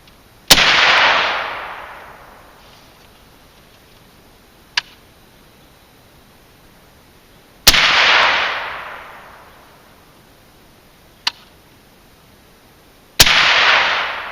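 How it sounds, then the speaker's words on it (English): Three suppressed rifle shots through a VERS50 silencer from Bowers Group, each a sharp crack with a hissing tail, spaced several seconds apart. A faint tick follows each shot. "I'm going to fire 3 more rounds"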